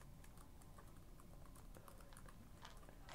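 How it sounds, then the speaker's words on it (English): Quiet, steady typing on a computer keyboard while entering text in a word processor, soft rapid key taps close by, with no talking. "I'm just gonna type a little bit in Microsoft Word."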